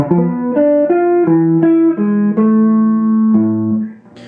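A guitar plays a quick triplet run of plucked notes from Paganini's Caprice No. 24, Variation 1, each ringing clearly in a steady rhythm, then the phrase fades out at the end. No voices.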